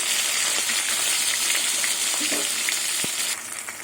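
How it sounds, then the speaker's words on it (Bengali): Fish heads frying in hot oil for a second batch browned until reddish and crisp, giving a loud, steady, dense sizzle that runs throughout and eases slightly near the end, with no talking. "মাছের মাথা আর এক পিট লাল করে ভাজতে হবে"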